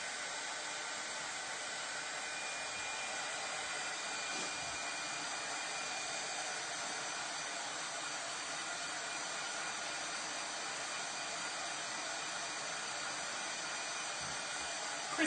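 A hair dryer blows steadily and loudly on a craft transfer for a Christmas pillar stand, a continuous even whoosh that holds unbroken for the whole stretch with no one talking.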